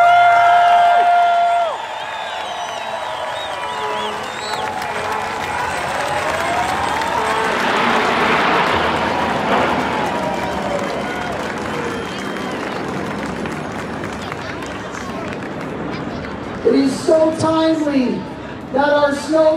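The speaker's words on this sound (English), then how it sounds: "Can I get a cheer for our Canadian forces that serve us abroad?" An outdoor crowd at Canada Day opening ceremonies at the Supreme Court of Canada cheers and claps for the Canadian forces, a broad swell that fades back as a voice comes in near the end.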